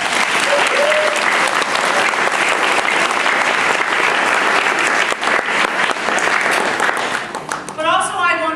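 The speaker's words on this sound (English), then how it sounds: "Let's give them a round of applause." A school crowd claps loudly for eight newly elected fifth-grade student council members, sustained applause that thins out near the end as a voice starts speaking.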